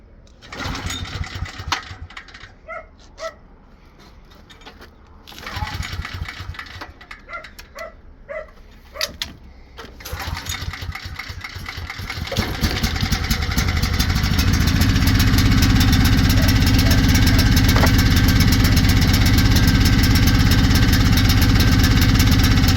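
A small engine fitted with a cheap Chinese aftermarket carburetor, new spark plug and fresh gasoline is pulled over several times with sputtering attempts, a dog barking in between, then catches and runs loud and steady up close.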